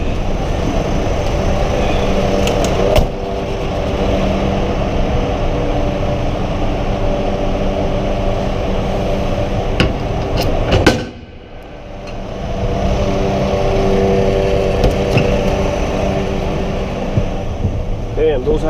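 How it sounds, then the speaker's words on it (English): Loud, steady mechanical whine and rumble from a junk-hauling truck's noisy hydraulics tipping a container, running continuously with clanks and a brief dip before resuming, with speech heard at times. "Damn, those hydraulics are noisy."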